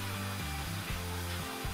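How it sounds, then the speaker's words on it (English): A loud K9 Fluffer dog blow dryer roars steadily up close while drying a Standard Poodle, its airflow briefly dipping and surging in a few quick pulses. "Sometimes I turn the dryer to a lower velocity"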